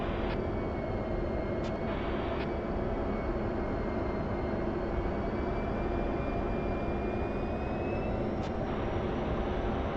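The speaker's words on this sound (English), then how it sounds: "the remaining flight members will do a pitch left-hand downwind for 2 sets of high-speed passes" Military aircraft making high-speed passes in a memorial flight formation produce a loud, steady jet-engine roar that fills the whole stretch, with a slowly shifting whine riding over the continuous rumble and no voices.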